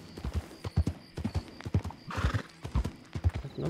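Horse hooves clip-clop in a quick, uneven rhythm in a ranch roleplay video game, with a whinny rising partway through, close and clear, with no speech over them.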